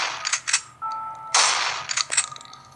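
Gunfire from a zombie shooting video game, with several sharp bursts spread across the moment, one long blast in the middle and quick crackling shots near the end.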